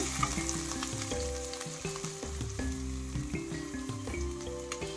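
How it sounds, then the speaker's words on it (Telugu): Ginger fries in hot oil in a pan for rice rava upma, a steady close crackling sizzle with faint stirring and occasional pops, without any voices. "ఇప్పుడైతే అల్లం వేసుకోవాలి అల్లం కొంచెం వేగాక"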